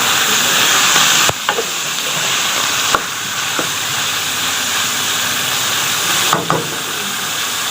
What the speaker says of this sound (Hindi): जब तक चिकन ब्राउन ना हो आपने इसको भूनते रहना है।